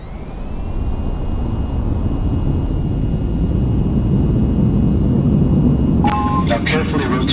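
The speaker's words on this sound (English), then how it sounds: "Now to take off, raise the throttle to full and steer to keep aligned with the runway." Jet aircraft engine roaring at full takeoff throttle in the VTOL VR flight game, a loud steady whine and rumble building over the first second and holding, with a few brief electronic beeps near the end.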